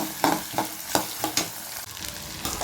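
Onions and green chillies sizzle steadily in hot oil in a pan during tempering for a fish curry, with several sharp stirring scrapes spaced through the continuous frying hiss, close and fairly loud.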